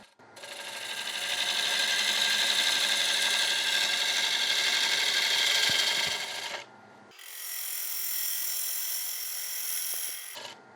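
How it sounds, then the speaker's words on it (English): A 16mm gouge shears across a spinning wooden chopping board on a lathe, a loud steady rasping hiss that stops briefly, then resumes more softly before ending. "Just with this 16mm gouge."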